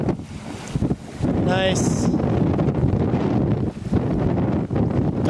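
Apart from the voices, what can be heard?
wind blowing at the seaside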